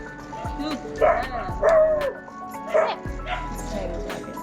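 A dog yips and whines in short, high, plaintive bursts while being microchipped at a rescue, the cries rising and falling over several seconds with faint background activity.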